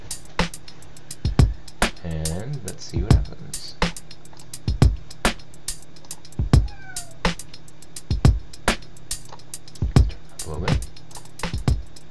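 A cat meows repeatedly, short loud calls coming every second or so, some drawn out into wailing cries, against a quiet indoor background.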